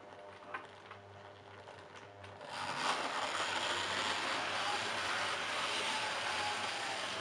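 A Tri-ang double-ended diesel model train pulls away after a quiet start, and its motor and wheels then settle into a steady, faint whir and rattle on the track.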